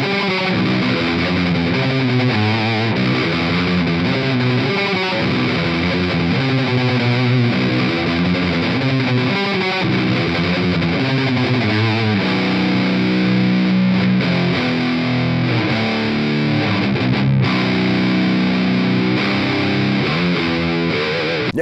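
Heavily distorted electric guitar plays chugging metal riffs and sustained chords, loud and continuous with a thick amp-simulated tone.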